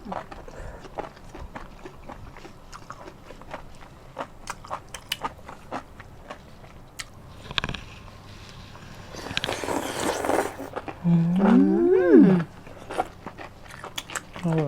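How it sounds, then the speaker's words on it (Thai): Enoki mushrooms topped with mala sauce are chewed with crisp, squeaky crunches repeating close to the mic, mixed with soft mouth noises, while a voice hums and briefly vocalizes. "กินแล้วเสียงกึดกึดกึดกึด"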